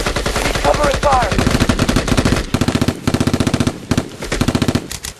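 Close, loud bursts of automatic gunfire in an ambush crackle in rapid rhythmic volleys with short pauses between them, and urgent shouting comes through in places.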